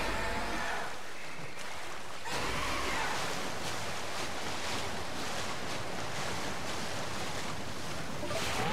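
Water splashing and rushing in Pokémon Legends: Arceus near twin waterfalls, a steady loud wash of spray and surf-like noise filling the whole stretch, with a brief dip before a fuller surge.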